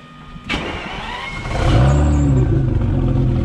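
A Citroën Traction fitted with a twin-turbo V12 engine cranks briefly and then catches, settling into a loud, close idle with a rising roar after startup.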